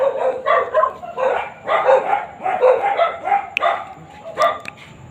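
Several dogs bark in repeated bursts outdoors, a run of mid-pitched woofs and yips at moderate distance, loud and irregular, with a few sharp clicks.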